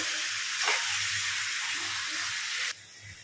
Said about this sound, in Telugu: ఇప్పుడైతే చికెన్ వేస్తున్నానండి. చికెన్ వేసుకున్నాకనైతే మొత్తం ఒకసారి కలుపుకోండి.